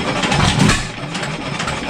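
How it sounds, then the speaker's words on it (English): A 7 HP Stickney hit-and-miss engine runs slowly at around 300 RPM, giving a steady low chugging rumble with a brief heavier thump near the start, close and loud with no talk. "I'm listening about 300 RPM. I'm going to see if I can drop it down to about 275 or so."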